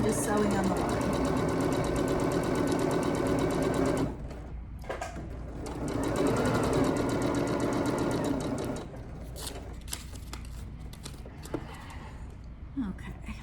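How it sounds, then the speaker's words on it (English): A sewing machine stitches a quilt block for a Vintage Rose block-of-the-month project, running in a steady loud whir for several seconds, pausing, then running again briefly before stopping, with faint handling noises and a voice. "Now I'm just sewing on the line."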